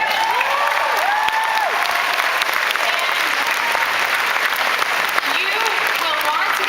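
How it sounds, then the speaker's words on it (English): Loud, sustained audience applause fills a Comic Con 2009 panel for Battlestar Galactica, with scattered cheers and whoops rising over steady clapping from a large crowd. "You will want to keep your applause going"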